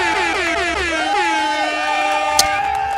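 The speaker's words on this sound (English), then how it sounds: "You know what you're about to get. The air horn." A loud air horn blares continuously in a stream setting, its sustained tones bending and stepping through several pitches before a brief sharp click near the end, with no talk over it.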